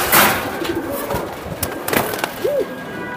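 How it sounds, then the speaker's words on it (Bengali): Pigeons at a bird market give a few soft coos and calls amid rustling and background clatter, with one clearer rising-falling coo near the end. "আর একটা বিশাল সাইজের কবুতর"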